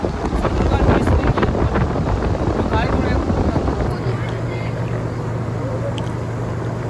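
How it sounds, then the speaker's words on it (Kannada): Strong whirlwind gusts blowing during a rainstorm outside a Karnataka home, roaring steadily against the microphone with heavy buffeting, easing slightly partway through while a low hum continues. "ಸುಂಟ್ರ ಗಾಳಿ ಹೆಂಗೆ ಬೀಸ್ತದ ಸೇಮ್"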